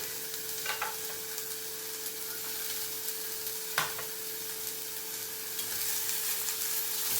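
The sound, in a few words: carrots, capsicum and peas frying and stirred in pan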